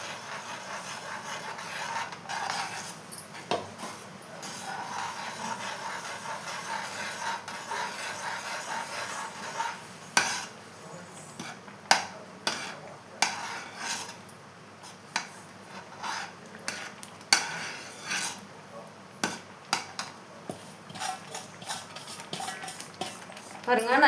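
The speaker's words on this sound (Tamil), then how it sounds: "இப்போது நம்ம வறுத்த வச்ச ரவையை கொஞ்சம் கொஞ்சமாக சேர்த்து அப்படியே கலந்து விட்டுக்கலாங்க." Roasted rava (semolina) stirred a little at a time into a pan for rava kesari, with irregular close clinks and scrapes of a spoon against metal over a low, steady background.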